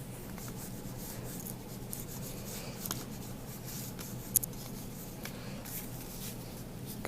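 Colored pencils scratch grass strokes onto paper in several shades of green, a soft continuous rubbing and scraping with small ticks now and then, faint and close, with no voice.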